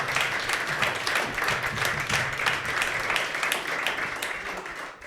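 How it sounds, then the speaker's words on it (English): An audience at a live podcast recording applauds, a dense, steady burst of many hands clapping together for several seconds before it tapers off. "let's give a round of applause to Nils"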